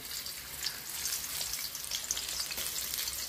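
Onion sizzles in a pan over high heat as the first step of fried rice, a steady close frying hiss with occasional stirring scrapes, and no voices.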